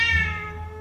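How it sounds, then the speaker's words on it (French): A domestic cat gives a single drawn-out meow, close and clear, falling slightly in pitch as it fades, with no other sounds around it. "Il va commencer à miauler."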